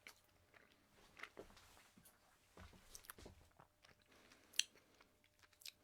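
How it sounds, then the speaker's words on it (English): A person crunches a snack close to the microphone, with faint, irregular bites and chewing crackles scattered over several seconds of quiet. "I'm crunching it now because I want some flavour."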